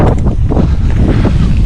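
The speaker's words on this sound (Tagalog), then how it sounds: "Mahangin sa labas with Juan Carlos Alonso." Strong outdoor wind buffets the microphone in loud, rumbling low gusts throughout the short stretch, with no voices.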